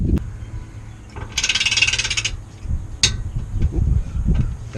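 A torque wrench tightens skid plate bolts under a 2015 Subaru Forester 2.5i, giving a burst of rapid ratcheting clicks, a sharp metallic snap and scattered clunks and scrapes close by.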